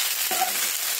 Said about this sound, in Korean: 버터 볶음밥을 하는 중이에요